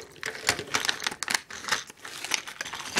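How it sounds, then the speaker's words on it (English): A Lego Minifigures Series 9 blind bag is cut open, giving quick close crinkles and snips of thin plastic in a rapid irregular patter, fairly quiet. "Gonna cut open the second to last one."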